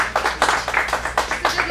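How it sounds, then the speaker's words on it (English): A small audience at a kids' acting showcase in Phoenix claps as young actors come up on stage, with a quick, uneven run of hand claps that sounds near and fairly thin. "we can give a round of applause while they're coming up"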